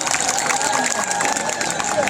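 Applause from a kirtan audience at a gathering in Sambalpur, a steady dense wash of clapping and crowd noise filling the whole stretch at even loudness.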